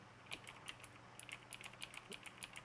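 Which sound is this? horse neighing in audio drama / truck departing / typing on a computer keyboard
typing on a computer keyboard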